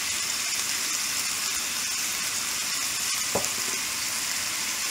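Potatoes fry together with meat in a pan, giving a steady, even sizzle with a faint clink partway through.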